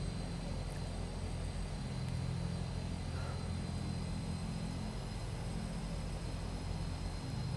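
A de Havilland Twin Otter DHC-6-300 twin-propeller aircraft powers up for takeoff, its engines giving a steady, loud, low droning roar with a constant propeller hum that holds without a break, heard from close by.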